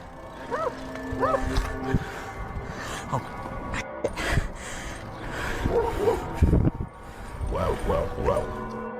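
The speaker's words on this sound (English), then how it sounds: "he hears barking behind him and the chase is on again" Dogs bark and yip in repeated short bursts, some calls high and drawn out, with a few scattered noises between them.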